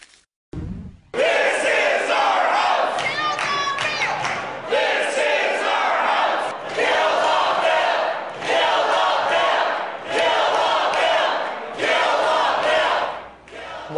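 Large crowd of protesters in Michigan shouting and roaring loudly, a dense, sustained wall of voices with surging chants that swell and dip over several seconds.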